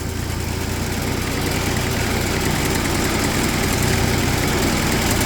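John Deere 322 lawn tractor engine idling cold with a governor that fails to respond at idle, a loud, close, steady vibrating drone that runs without pause.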